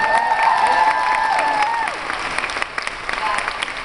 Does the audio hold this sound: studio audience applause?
yes